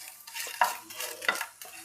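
Puliyogare powder ingredients with pepper are stirred and dry-roasted in a pan over a low flame, giving close, rhythmic scraping strokes with a soft sizzle and no talking.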